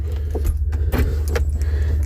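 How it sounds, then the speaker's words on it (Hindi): Car keys jangling and clinking near at hand, loud, with several sharp metallic rattles over about two seconds; no one speaks. "दोस्तों ये है गाड़ी का चाबी"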